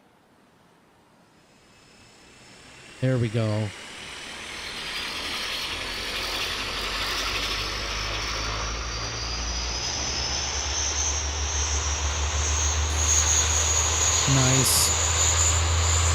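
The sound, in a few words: propeller airplane engines in Tower Simulator 3 video game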